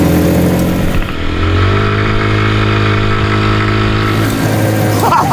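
Hot rod car engine on a city tour through Vienna, loud and close as it revs up and holds a rising, droning growl with a steady rumbling tone before easing off.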